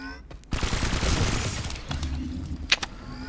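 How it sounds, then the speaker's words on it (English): Silenced submachine gun fire in Planetside 2 comes as a dense, rapid stream of muffled shots, fairly close, with a couple of brief pauses. "I will just go around doing silent shooting"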